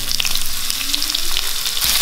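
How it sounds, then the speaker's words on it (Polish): Onion sizzles loudly in a hot pan while pad thai is being made, a dense, continuous frying hiss heard up close with faint stirring scrapes and no voices. "Wrzucimy cebulkę."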